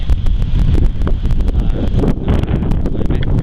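Strong wind buffets the microphone on a hilltop above Dan Sai town, which sits in a valley in Loei, Thailand. The roar is loud, steady and close, with gusty swells and no talk.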